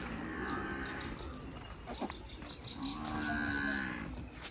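A buffalo being readied for sale moos twice in long, low, drawn-out calls, one early and one later, heard close but fairly quiet with some handling noise between.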